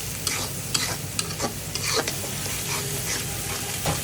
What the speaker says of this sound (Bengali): এভাবে মশলাটাকে কষিয়ে নেব চিংড়ি মাছের সাথে।